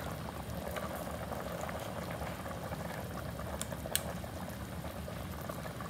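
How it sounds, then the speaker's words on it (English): Puerto Rican chicken soup bubbles steadily in a pot, a close, continuous simmering boil with a faint clink partway through. "I'm gonna add this now so it can start boiling"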